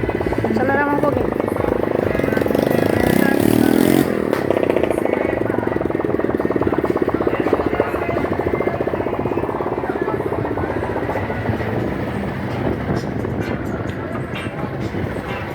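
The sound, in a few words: vehicle engine accelerating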